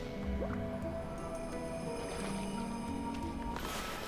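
A character swims through water in the video game Okami, giving soft squishy splashes and gurgling liquid sounds over a busy, layered game soundtrack.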